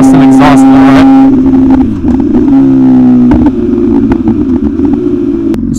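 An MV Agusta Rush motorcycle with a decatted full straight-pipe exhaust and slip-on revs up close and very loud, a sharp rising snarl followed by a steady throbbing idle with crackly pops.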